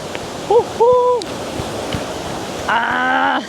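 Kuang Si waterfall in Laos gives off a steady broad rushing roar, with brief voice-like tones and other sounds rising over the constant falling water.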